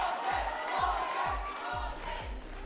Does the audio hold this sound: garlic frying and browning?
no